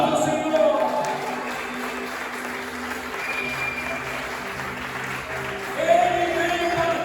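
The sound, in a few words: applause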